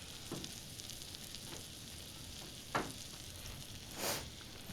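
Steak sizzling on a small electric griddle grill, a steady soft frying hiss throughout with a few brief louder crackles and pops.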